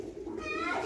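A brief, soft coo from a pigeon at a pigeon sale in Lucknow, close and faint, lasting under a second.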